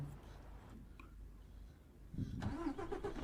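Mercedes truck engine cranking and firing up in Euro Truck Simulator 2, a quiet start that catches and settles into a low rumbling idle after a brief hush, with faint game ambience before it.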